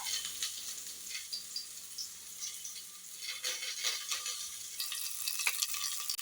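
Onions and curry leaves frying in a pan, a steady close hiss and crackle of hot oil with occasional stirring scrapes, no voices.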